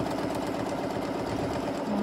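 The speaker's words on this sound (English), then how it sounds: "all I'm doing here is just kind of doing some zigzag motions with the needle and the thread, doing some stitching here." A sewing machine runs steadily while stitching a zigzag on a quilt, a continuous close mechanical whir with rapid needle clatter and no pauses.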